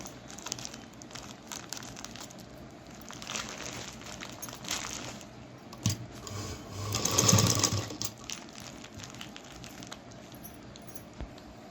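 Domestic sewing machine stitching a seam on a shopping bag made from an old cotton gown, a steady mechanical whirring that swells louder near the middle, then settles back into a quieter hum.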